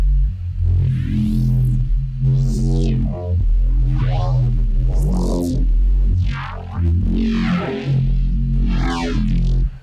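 Heavily processed neuro bass synth built in Kilohearts Phase Plant, loud and distorted with growling, filter-swept notes in a choppy rhythmic pattern, alone with no voices.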